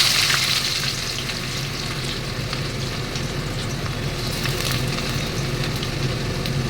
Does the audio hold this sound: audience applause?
no